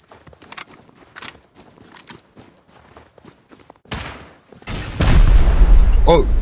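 Rocket explosions in the video game Rust, a sudden heavy boom followed by a loud, sustained rumbling blast after a stretch of quieter footsteps and clatter.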